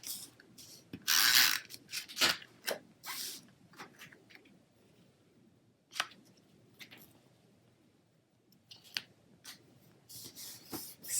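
SNAIL adhesive tape runner being rolled across Balmy Blue cardstock, a series of short scratchy clicks and ratcheting rasps in uneven bursts, quiet and close with pauses between strokes.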